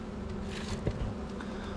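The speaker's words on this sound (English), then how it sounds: "A lot of bees in here." Honey bees buzzing inside an opened hive cluster in fall, a dense steady drone close up with a brief knock partway through.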